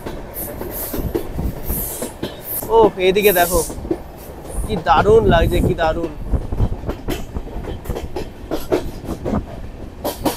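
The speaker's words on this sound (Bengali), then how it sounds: "ট্রেনটা উঠছে কিন্তু আস্তে আস্তে পাহাড়ে" Sairang Express train slowly climbing into the hills, its carriage rumbling with rhythmic clickety-clack wheel knocks and occasional squeals, while someone talks excitedly over the noise.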